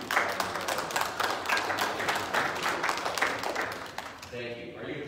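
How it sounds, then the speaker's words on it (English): Steady clapping from a church audience after a missionary update, a continuous patter at moderate distance that thins near the end as a voice begins to speak over it. "Are you applauding just because I'm finally done?"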